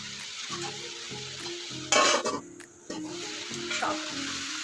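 Water spinach greens and coriander stems are stirred into a hot pan, a soft sizzle with a sudden loud burst of crackling midway, all under background music.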